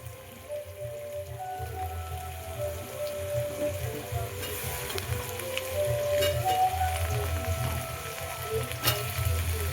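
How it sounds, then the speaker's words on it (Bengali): Potatoes and onions fry together in a pan with oil, giving a moderate, steady sizzle and crackle at close range with no speech over it. "আলু আর পেঁয়াজটা একসাথে ভেজে নিয়ে তারপর সয়াবিনটা দেবো"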